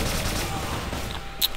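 Dense, continuous automatic fire from an M16A4 rifle in the Crossfire video game rattles out in a rapid burst, loud and close throughout.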